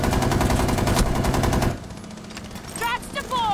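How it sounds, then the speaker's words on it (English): Rapid automatic gunfire in Rainbow Six Siege, loud and dense with blended game sound for the first half, then it cuts out to quieter ambience with a few brief sharp chirps and bursts. "He just shot me while I was trying to track him."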